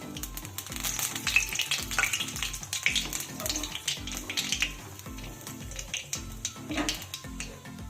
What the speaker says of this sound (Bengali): এবার আমি দিয়ে দিচ্ছি অল্প করে কালো জিরে ফোড়ন